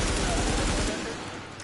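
Gunfire in the video game The Division, a dense burst of rapid shots filling the first second, then thinning as the game's noise carries on.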